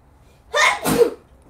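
A single loud, close sneeze in two quick bursts, a sharp intake and then an explosive release, heard during a live get-ready-with-me makeup stream.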